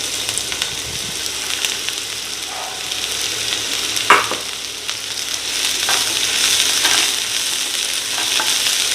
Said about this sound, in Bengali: এবার এটাকে একটু নেড়ে নিলাম।